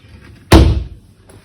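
A kitchen cabinet door in a French country house swings shut onto a magnetic door stopper, making one sharp, close thud that fades quickly into a quiet room.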